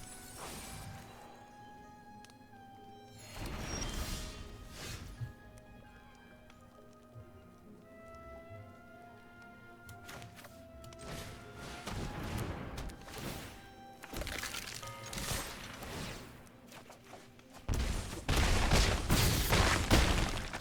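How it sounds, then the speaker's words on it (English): Arcane Bombardment spell effect in Magic Arena: repeated crashing, rain-like bursts of magical impacts that swell and fade over sustained game music tones, ending in a dense loud flurry. "Arcane Bombardment."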